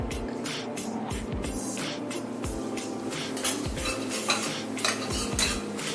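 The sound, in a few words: mixing coconut ladoo mixture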